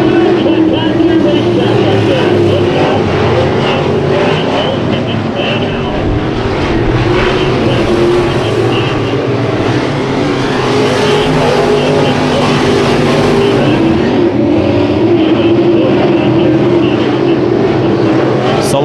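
Race cars in an eight-lap heat race at Bakersfield Speedway roar in a continuous loud engine drone that swells and fades as the pack circles the track, with an announcer talking over the noise.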